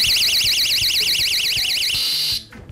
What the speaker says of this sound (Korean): 특히 침입 절도 범죄를 예방하기 위해서 가구마다 경보기를 달아주고 있습니다.